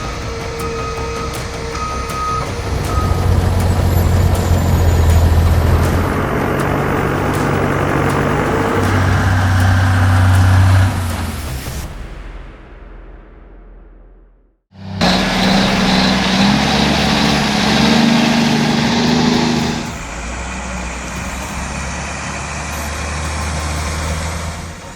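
A heavy logging truck built for timber hauling in mud and hills runs its diesel engine with a steady rumble and droning tones, then cuts to silence before the engine noise resumes loud and close with a sharp hissing burst like an air brake.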